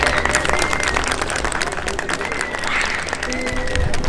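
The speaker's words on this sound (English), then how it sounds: "they have people clapping their hands near the smaller" Tour groups clap their hands near the smaller pyramids and temples at Teotihuacan, a dense, loud patter of many overlapping claps with echoes, with voices mixed in.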